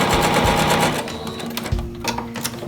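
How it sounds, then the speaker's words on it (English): A sewing machine stitches a half-inch seam on a cotton fabric mask and backstitches. It makes a rapid, close, rattling run of stitches, then briefly slows and picks up again. "start sewing, and then backtrack there"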